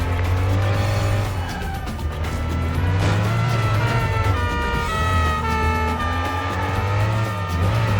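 In the Stuntman PS2 video game, a car's engine drones loudly while its tires squeal in long, pitch-bending wails through an e-brake 180 turn around a fountain.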